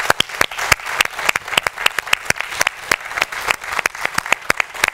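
Studio audience applause on a Turkish daytime talk show, a steady burst of many hands clapping close and loud, with sharp individual claps standing out throughout.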